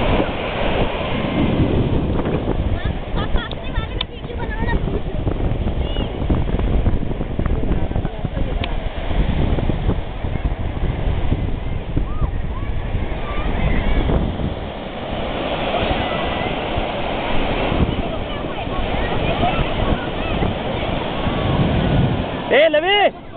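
Sea waves surging onto Marina Beach in Chennai, a steady broadband wash of surf with wind noise buffeting the microphone, loud and continuous throughout, with people talking over it.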